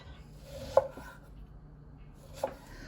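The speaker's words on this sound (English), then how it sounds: "the second step in processing the Meyer lemons is just to cut them in quarters" A knife cuts Meyer lemons into quarters on a board, with two distinct soft thunks of the blade striking wood amid quiet room noise.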